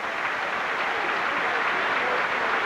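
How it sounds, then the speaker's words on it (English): A stadium crowd applauds steadily as an injured football player is wheeled off the field, producing a dense, continuous roar of clapping at an even level throughout, with no distinct voices standing out. "He's getting a round of applause right now as they wheel him off"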